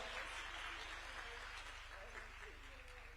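An audience at a Nairobi summit applauds steadily, the clapping staying dense and even throughout the short stretch and heard from a distance in a large hall.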